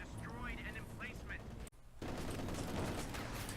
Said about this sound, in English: So he's using an MG.